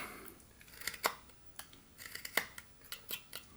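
A whittling knife makes a stop cut in wood, producing sparse, crisp snips and scrapes close up, irregular and fairly quiet, with no speech.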